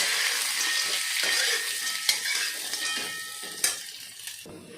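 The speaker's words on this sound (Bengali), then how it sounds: "ভালো করে ভাজবো।" Soybean chunks and potatoes fry in a kadai, giving a steady, dense sizzle close by, with a few brief scrapes and taps of a spatula against the pan and no speech.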